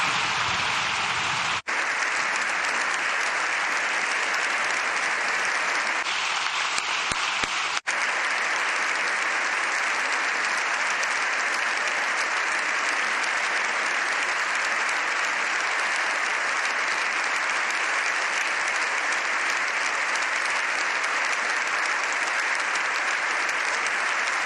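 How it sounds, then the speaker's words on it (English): Sustained, dense applause fills a parliament chamber in Spain for Pope Leo XIV, loud and even throughout with no talk over it. "Sustained applause again for Pope"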